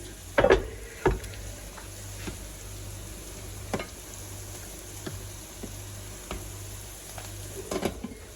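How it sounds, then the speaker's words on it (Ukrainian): Onion sizzles steadily in a frying pan while a utensil stirs, scraping and clinking against it every few seconds, close and fairly quiet. "Цибулька теж у нас смажиться, ми її помішуємо, усе під контролем"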